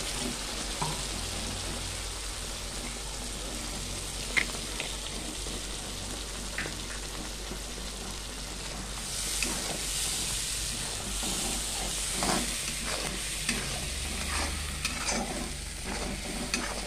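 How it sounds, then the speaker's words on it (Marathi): Homemade masala and ground paste frying in hot oil for a hotel-style chicken gravy, giving a steady close sizzle and hiss with occasional stirring scrapes that grows brighter and louder about halfway through. "चांगलं तेल उतरपर्यंत परतून घेऊया."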